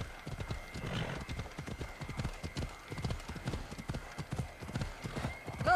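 A horse in Assassin's Creed Odyssey gallops with steady, close clip-clop hoofbeats and lets out a whinny, the rhythmic hooves running throughout with a voice talking faintly underneath.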